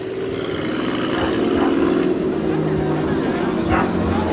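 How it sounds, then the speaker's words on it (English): A Toyota Cresta with a straight-six engine and straight pipes exiting under both doors gives a steady low exhaust drone nearby, with voices talking over it. "Yeah, straight pipes, exiting under both doors, straight 6 engine."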